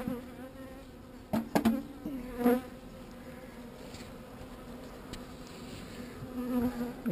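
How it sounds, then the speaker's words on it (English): Bees flying around a beehive during an outdoor hive inspection, a steady close buzzing drone with a few louder passes near the microphone. "I've got a few bees flying around me as you would normally, but they're not overly angry."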